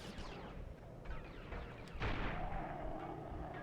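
A sniper rifle fires in the video game Resistance: Fall of Man, a few muffled booming shots with one sharper blast midway followed by a lingering rumbling tail.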